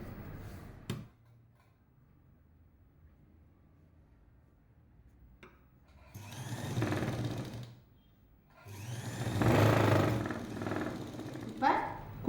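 A sewing machine stitches a hook piece for a lined jacket in two close, moderately loud running bursts after a quiet stretch with faint clicks.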